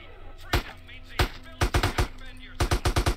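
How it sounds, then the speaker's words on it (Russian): Gunfire in GTA San Andreas during a stunt challenge, a string of sharp close shots, first spaced single shots and then a quick rapid cluster near the end, with no talk over it. "я, блядь, по одному выстрелу делаю"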